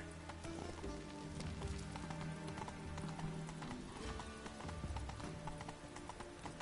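Steady rain patters over everything in The Witcher 3 while a horse's hooves clip-clop rhythmically beneath it, continuous and fairly close.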